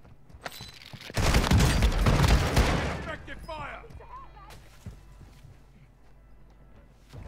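Shotgun blasts in Warzone 2 on Ashika Island: a loud, dense burst of booming shots early on that fades into lighter clatter, with a voice talking over parts of it.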